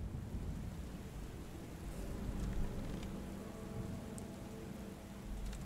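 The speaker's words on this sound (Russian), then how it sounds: "Ночь, дождик. Хорошо-то как." Steady rain falls at night in the video game Book of Hours, a dense hiss of drops spattering on surfaces with a low rumble beneath, no voices.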